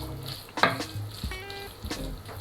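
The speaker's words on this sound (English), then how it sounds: "Just mix that in." A spoon stirs rice through a pot of jollof rice, making a short soft scrape and a light sizzle over a couple of seconds, fairly quiet and close by.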